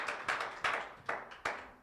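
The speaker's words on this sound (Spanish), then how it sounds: "Por eso yo pienso que él merece un aplauso en esta tarde." Sparse handclaps sound at a church service, a few separate claps spaced irregularly and fairly faint, with no voices.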